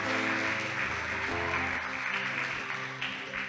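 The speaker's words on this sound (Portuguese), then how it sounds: "Dê uma salva de palmas, amada." Steady, dense applause from a church youth conference audience fills the space for several seconds, loud and continuous with a bright clapping texture and music-like tones beneath.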